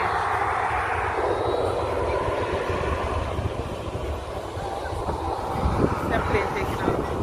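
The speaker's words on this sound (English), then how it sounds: "That plane taking off." An airplane takes off near a beach at Dead End, Montego Bay, Jamaica, its engine roar a steady broad rumble that holds for several seconds with slight swells, with faint ambient noise around it.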